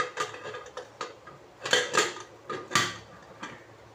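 A metal pressure cooker lid is handled and locked shut in a home kitchen, a run of close clicks, clinks and scrapes in uneven bursts, with no voices.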